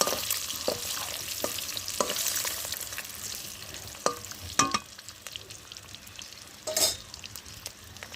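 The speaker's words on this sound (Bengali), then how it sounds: "দেখো ডিম আর বড়িটা ভেজে তুলে নিলাম" Eggs and bori frying in oil seasoned with turmeric and salt, a continuous close sizzle broken by several scraping stirs and louder bursts near the end, with no talk.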